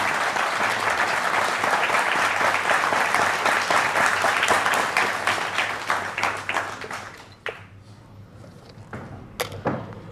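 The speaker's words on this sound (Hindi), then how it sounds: "एक बार फिर जोरदार तालियां" A large crowd at a public stage event gives loud, sustained applause for the Bageshwar Dham head, thinning to scattered claps toward the end.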